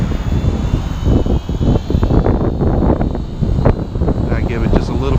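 A Syma X5C-1 quadcopter flies outdoors in a decent wind, its small rotors giving a steady buzzing whir mixed with wind rumble, continuous and fairly close, while someone talks over it.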